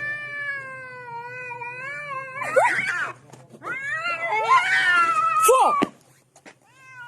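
A cat meowing and caterwauling up close: a long drawn-out wavering yowl followed by several loud rising and falling cries, then a short quiet tail.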